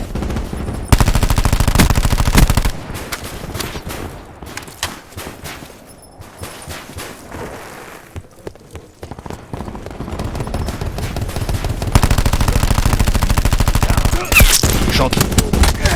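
Rapid bursts of video game gunfire fill the scene, with loud sustained automatic fire at the start and end and sparser, quieter shots in between.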